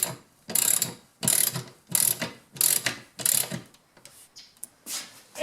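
A nut is ratcheted tight on an air compressor hose reel mount: five close bursts of rapid ratchet clicking, each about half a second, separated by short pauses, then quieter fumbling.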